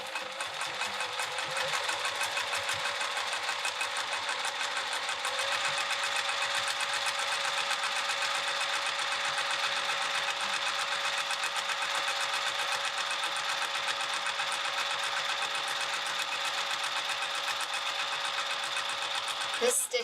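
A sewing machine stitches a bag steadily for about twenty seconds, a fast even whirring rattle held at constant speed, close up and alone.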